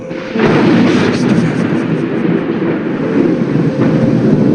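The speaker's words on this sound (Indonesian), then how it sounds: "dari luar rumah terdengar suara petir yang cukup kencang," A loud, deep rumble of thunder erupts suddenly and rolls on heavily without fading, filling the whole stretch.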